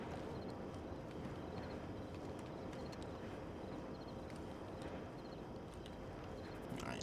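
Horse hooves clip-clop in a ranch roleplay video game, a faint, steady patter of hoofbeats under constant low background noise, with no voices.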